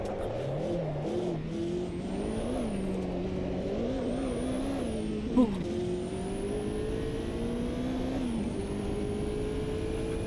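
A race car in Automobilista 2 drives at speed, with a steady engine drone and a high thin turbo whine that rises and falls as it shifts. Someone talks over it.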